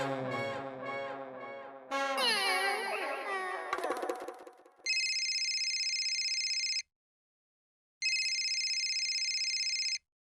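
An incoming call sets off an electronic phone ringtone in two loud, bright bursts with a short silence between them, after a stretch of lively voices and childlike crying.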